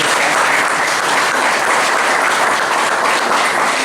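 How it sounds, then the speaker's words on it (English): Loud, thunderous clapping from a full audience, a thick continuous wash of many hands at close range that holds steady throughout without any speech. "join me to give her a thunderous hand clap"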